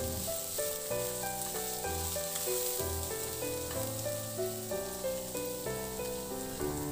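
Ginger sautés and is stirred in a pan, a soft continuous sizzle sitting under background music that carries on throughout.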